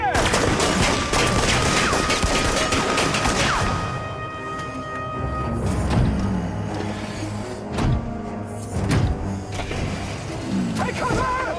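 A volley of gunfire in a period police drama, dense overlapping rifle shots in the opening seconds, then scattered loud single bangs with clatter and shouting voices in the background.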